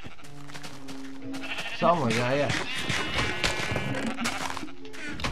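A sheep in Minecraft on Xbox 360 lets out one wavering bleat partway through, with game sounds behind it and a person talking around it.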